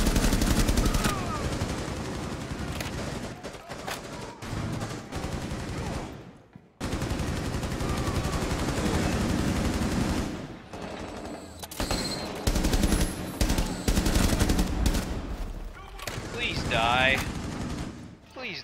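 Gunfire in the Rainbow Six Siege video game during a terrorist hunt on PC, with dense, loud automatic bursts and single shots rattling almost continuously, a brief lull midway, and occasional talk in the background.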